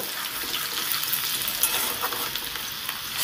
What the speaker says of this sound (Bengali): কোচানো রসুনগুলোকে একটু লাল করে ভেজে নেব